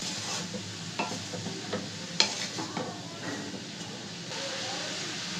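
Cabbage being stirred in a pan for a prawn and cabbage dish, with scraping clicks and faint sizzling over a steady low hum.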